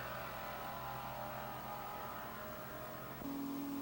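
Muscle cars at the 1993 NMCA World Finals drag strip, including a Plymouth Sport Fury, roar steadily off the line in a continuous loud engine drone with a shift in tone near the end, no talk over it.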